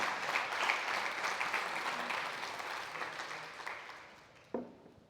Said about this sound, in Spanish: Vamos a dar una ofrenda de palmas.